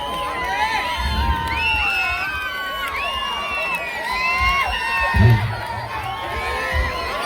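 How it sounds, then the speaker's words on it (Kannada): Village stage audience in Gajendragad greeting a performer, a loud crowd cheering with whoops and shouts plus bursts of clapping, sustained throughout. "ಜೋರ ಚಪ್ಪಾಳೆ ಬರಲಿ"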